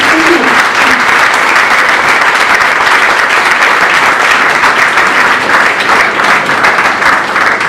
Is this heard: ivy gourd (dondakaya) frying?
no